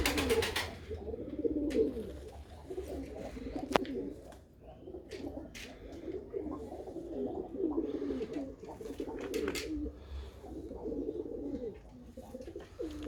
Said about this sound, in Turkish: Hepsi birbirinden güzel kuşlar işte.